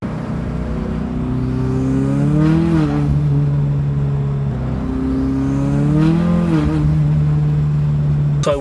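A turbocharged Mazda Miata running E85 pulls hard twice, the engine note rising in long sweeping climbs with a whirring turbo spool layered on top, loud and close, then dropping back between pulls.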